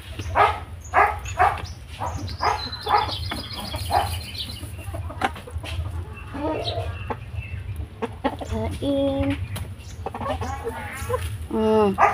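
A sick mother hen clucks repeatedly while being fed, giving soft irregular clucks close by, with occasional sharper calls and a person talking gently in between.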